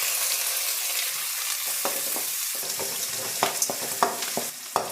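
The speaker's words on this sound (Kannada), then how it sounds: "ಈರುಳ್ಳಿ ಫ್ರೈ ಆಗಿದೆ" Finely chopped onions frying in oil with mustard seeds, chana dal, urad dal and curry leaves, a constant hiss punctuated by sharp crackles and pops that grow busier toward the end.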